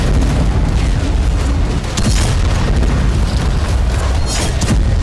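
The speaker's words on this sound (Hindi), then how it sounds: "इजरायली सेना ने आर्टिलरी से भी आग बरसाई।" Israeli artillery fire during fighting against Hezbollah positions: loud, dense rumbling blasts roll together into a continuous heavy roar, with a few sharper booms standing out, and no voices present.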